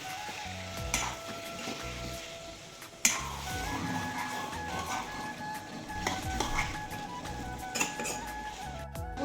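Chicken biryani is stirred in a pot, with close scraping and clinking of a spoon against metal over a soft sizzle, in irregular strokes and a sharp knock partway through, with no talk.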